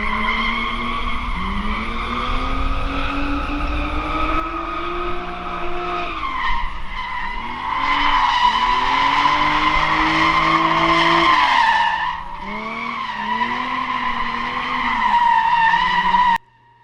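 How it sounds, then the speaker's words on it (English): Drift car tires spin and squeal in long sliding skids, with the engine rising and falling through transitions, a loud continuous screech that wavers in pitch and drops off abruptly at the end. "we still spin"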